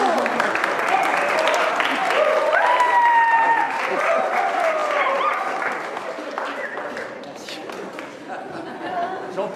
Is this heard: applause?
yes